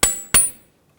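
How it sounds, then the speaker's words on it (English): Two sharp metallic hammer blows on a punch, knocking the inner clamp off a steering rack boot on a 2004-2009 Dodge Durango, close and loud with a short ringing decay. "We just used a punch and a hammer to pop that band off."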